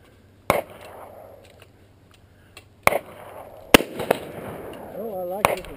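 Smith & Wesson .44 Magnum revolver shots fired outdoors: about five sharp, loud cracks spaced irregularly over several seconds, with people talking between them.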